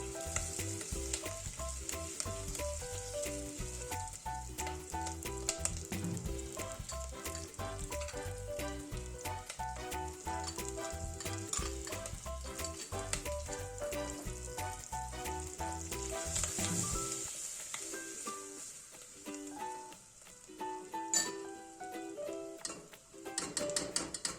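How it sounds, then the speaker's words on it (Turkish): Steady sizzling of diced potato and flour sautéing in a pot for lentil soup, with occasional stirring clinks, continuous and close, with a musical backing underneath. "Sonra önceden doğradığımız bir adet orta boy patates ile bir yemek kaşığı unu ilave edip biraz daha kavuruyoruz."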